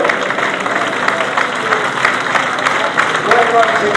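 A speedway crowd at Belle Vue Stadium claps and cheers for sidecar race winner Paul Whitelam at the British Sidecar Speedway Championship final, a steady wash of applause from a large outdoor audience.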